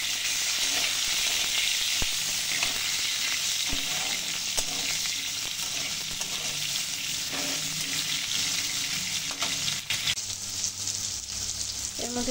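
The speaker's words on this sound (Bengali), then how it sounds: "এবার আমি কেটে রাখা আলুগুলোকে দিয়ে ভালোভাবে একটু নেড়ে চেড়ে নেব।" Cut potatoes frying in a pan with oil for a vegetarian soybean dish, a dense continuous sizzle broken by scraping clicks and knocks as they are stirred, close up.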